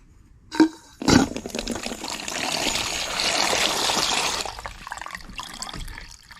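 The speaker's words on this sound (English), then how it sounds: "You can see it's off and it's dripping out." Water splashes and trickles out of a frost-free outdoor faucet just after it is shut off, draining in a steady spatter after a couple of clunks from the valve.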